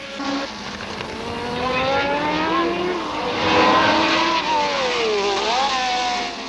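A 1978 fan racing car passes with a high, wailing engine note that sweeps up and down as it accelerates and shifts, loud and continuous, its pitch swooping as it goes by.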